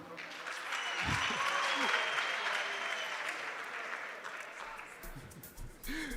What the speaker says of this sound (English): Guys, no round of applause, no food.